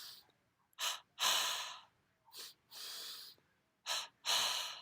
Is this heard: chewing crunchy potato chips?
no